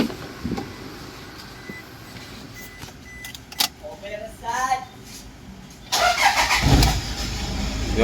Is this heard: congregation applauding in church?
no